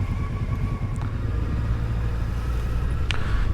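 Steady low rumble of many cars passing along a road, heard from a motorbike on a weekend ride out of Kyiv, continuous and moderately loud with no talk over it.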